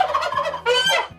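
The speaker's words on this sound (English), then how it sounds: "Hold on, I need to get rid of this fucking goose. He always sneaks back up on me and screams at me." A homestead goose gives a loud, close, harsh honking scream in two raspy bursts, the second higher and more strident, heard on its own.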